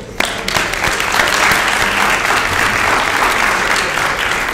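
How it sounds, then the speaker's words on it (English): An audience at a residents council meeting applauds loudly and steadily, a dense wash of clapping from many hands that fills the whole stretch. "I'd like everybody to give him a round of applause."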